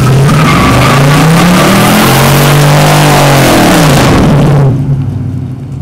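Car accelerating hard with spinning, squealing tires, a loud close engine roar rising and falling in pitch over constant tire noise before it drops away sharply near the end.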